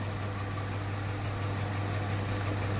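Steady, dense hiss and crackle of green chillies, mustard seeds and curry leaves sizzling in hot oil, continuous throughout, with a low hum underneath and no voices.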